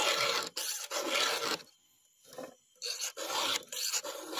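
Hand rasp filing old naturally fallen timber in rapid rough strokes, a scratchy grinding rhythm broken by short pauses, close and clear with no voices.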